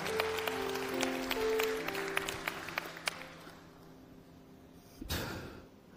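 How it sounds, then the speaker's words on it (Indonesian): Applause from a church congregation during an Indonesian sermon, a dense patter of many hands that fades over several seconds, followed by a brief rustling thump near the end. "Tepuk tangan, saudara"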